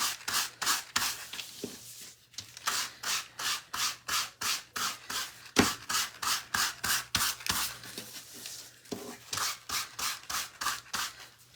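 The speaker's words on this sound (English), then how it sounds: "If we sand all around it, it makes it look like the fabric is all evened out." Sandpaper rubbing over worn fabric on a primitive Halloween centerpiece, in steady back-and-forth strokes at roughly two per second. The rasping is close and continuous, with only brief pauses.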